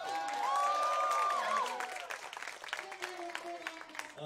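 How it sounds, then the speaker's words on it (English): Applause from an audience at a live band concert, fairly soft and steady, with a sustained tonal sound and some voices over it early on, thinning out toward the end. "Carter, our guitar player, who we give a round of applause for."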